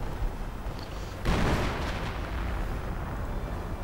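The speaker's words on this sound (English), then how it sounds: "And a bit more artillery fire." Artillery fire in a World War strategy game, a loud booming blast that rolls into a sustained rumble of distant explosions and gunfire.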